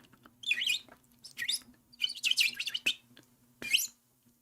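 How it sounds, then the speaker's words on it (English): A bird chirps in several quick bursts of bright, high tweets, close and clear over a faint steady hum, with short pauses between calls. "Bird."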